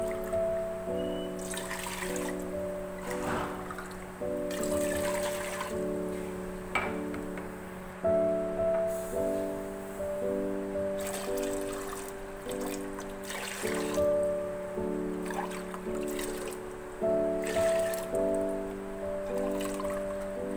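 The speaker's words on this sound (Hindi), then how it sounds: "सबसे पहले पैन में मैं 5 से 6 गिलास पानी शामिल" Water trickles and splashes into a cooking pan on a high flame as five to six glasses are added for chicken stock for yakhni pulao, several separate pours in a row with short pauses between them, close and moderately loud.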